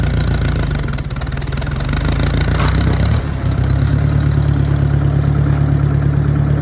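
A used tractor's engine runs loud and close with a steady low throb while the gears are shifted, the drone dipping briefly and changing pitch partway through.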